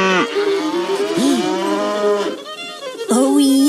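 Cows low in a series of long, loud moos, several calls following one another with short breaks, close and clear with no talk.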